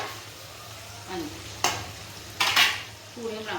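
Potato and paneer fry in a pan for aloo paneer with puris, giving a soft, continuous sizzle broken by several sharp spoon scrapes and clinks against the pan. It sounds close and moderately quiet, with no voices.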